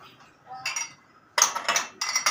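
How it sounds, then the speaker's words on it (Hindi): Metal pots, pans and dishes are shifted about at home during packing for a move, giving several short clattering clinks in bursts, fairly close and moderately loud. "बर्तन सारे बीच में कर दूँ,"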